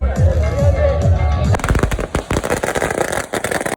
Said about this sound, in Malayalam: ചെക്കൻ്റെ വരവ് അറിയിച്ചുകൊണ്ട് ചെറിയൊരു വെടിക്കെട്ട്